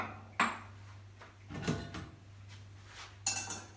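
Sauce strained through a metal sieve to catch bits of shallot, for a salmon trout dish: three sharp metallic clinks and scrapes of sieve against pan, spaced out over a quiet background hum.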